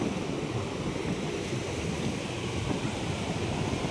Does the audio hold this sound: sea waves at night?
yes